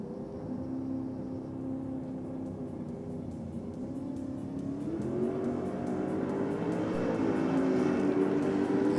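A Mustang drag car performs a big burnout at a drag strip, a loud sustained engine roar with screeching tyres that builds steadily in intensity over several seconds, with no voices heard.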